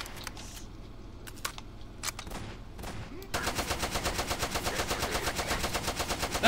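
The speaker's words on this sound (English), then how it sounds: "I'm dumping like a whole, almost a whole mag in them." Gunfire from a gun in Garry's Mod: a few scattered shots, then a sustained rapid burst of automatic fire with a steady pulsing rhythm, loud and close.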